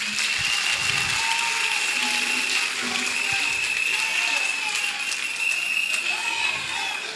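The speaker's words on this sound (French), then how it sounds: "Applaudissons pour le Seigneur." A church congregation claps steadily and continuously with a high sustained tone ringing above the applause, dense and even throughout.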